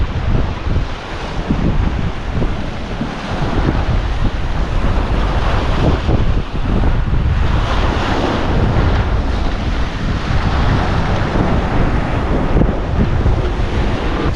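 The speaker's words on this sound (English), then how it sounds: "So it's pretty intense winds." Strong wind buffets the microphone on a beach, with a steady broadband roar and crashing surf throughout, loud and constant with no talking.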